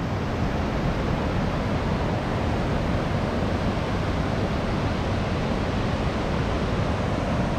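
Rushing river water pouring over a waterfall on the Pandhar river near Nepanagar, a loud, steady, dense roar that stays constant throughout with no breaks.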